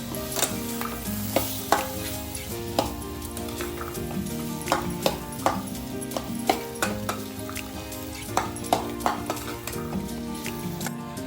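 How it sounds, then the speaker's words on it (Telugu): Green peas being stirred into frying potato chaat masala in a home kitchen: a spoon scrapes and knocks the pan in a steady, irregular rhythm over a continuous sizzle. "బఠానీ వేసుకొని బాగా ఒకసారి కలుపుకొని"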